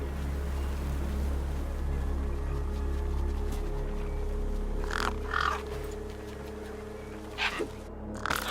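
Crow-like caws from gang birds crowding a corpse propped against a rock in the video game Beyond a Steel Sky, a few short calls at mid-distance over a steady low ambient drone, with no talk.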